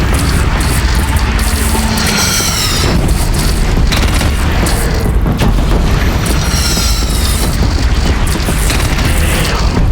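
Heavy, loud booms from a cannon firing in the video game Horizon Zero Dawn, repeated amid dense battle noise and rumble, filling the whole stretch without a clear pause.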